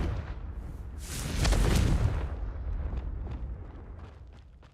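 A Confringo fire spell explosion in the video game Hogwarts Legacy, a single deep roaring blast that swells quickly and then rumbles and fades away over several seconds.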